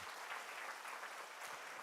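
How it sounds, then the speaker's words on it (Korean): Church congregation at a summer retreat service applauding to encourage volunteers, a steady broadband wash of many hands clapping at once, fairly quiet and distant, with no talking. "박수 한번 하시면 좋겠습니다."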